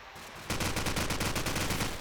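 Rapid automatic gunfire in a competitive video game match between Poland and the Netherlands, a dense, loud, evenly spaced volley of shots that starts abruptly and runs without a break.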